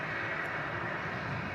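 Broadband jet roar from an Emirates Airbus A380 on approach to runway 05 left at Manchester Airport, a steady, fairly distant rumble holding evenly throughout with no voices.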